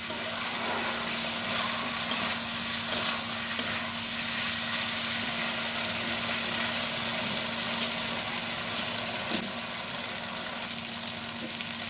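Poppy seed (posto) masala frying and being stirred in oil in a pan, a quiet steady sizzle with a constant low hum beneath and a few small clinks and scrapes.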